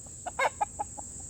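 A rooster gives a short run of five or six clucks, each a quick nasal burst, the loudest near the start, fading off, close by over a faint steady hiss.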